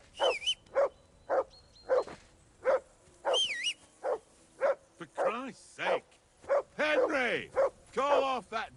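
A dog in Kingdom Come: Deliverance II barks repeatedly and loudly, close by, in a regular rhythm, mixed with yelping, whining cries partway through.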